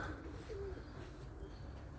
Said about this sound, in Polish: To są moje rumuny, zobacz, to są moje gołębie.